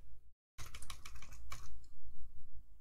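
Computer keyboard typing, with a brief silent gap followed by a quick run of crisp keystrokes and a firmer press of the Enter key, close and alone.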